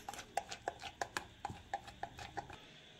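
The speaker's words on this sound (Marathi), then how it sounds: "याला छान मस्त फेटायचं." Thick alu vadi batter beaten by hand in a bowl, giving a steady run of quick, moderately loud taps and slaps, about three per second, close by.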